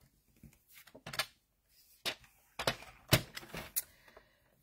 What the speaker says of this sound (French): Je reprends mon coupe-papier.